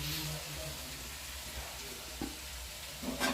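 Fish frying in a pan over lowered flame is stirred, a steady close sizzle with occasional scraping clinks near the end and some talk mixed in.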